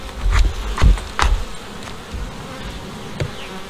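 Honeybees in a hive frame crowded with larvae, eggs and queen cups, as the colony prepares to swarm. A steady low buzz runs throughout, with a few louder swells as bees pass close.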